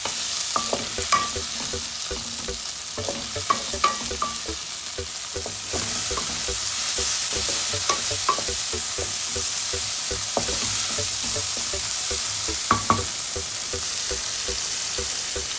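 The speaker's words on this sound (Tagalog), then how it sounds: "Paghaluin lang natin yan" Onions and tomatoes stirred and sautéed in a pan for adobong pusit, a steady hissing sizzle broken by repeated spoon clinks and scrapes against the pan, close and fairly loud, no talking.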